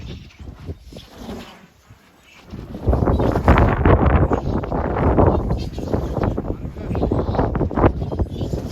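Strong, blustery wind roars across the microphone on an exposed hilltop, building after a quieter start into sustained loud buffeting.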